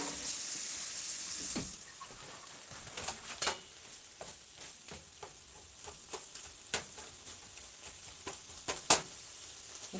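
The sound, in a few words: rinsing a utensil under the kitchen tap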